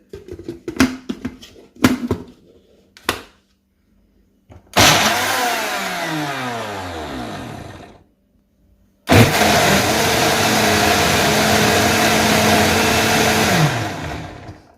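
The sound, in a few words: blender blending tomatoes and green chillies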